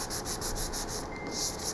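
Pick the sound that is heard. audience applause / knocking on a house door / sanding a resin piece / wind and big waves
sanding a resin piece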